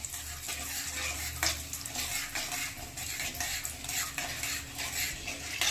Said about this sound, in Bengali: তেলটা বেশি হিট হবে না, কম হিটে ফোড়নটা যেন সুন্দর গন্ধ আসে সেইভাবে ফোড়নটাকে একটু ভেজে নিতে হবে।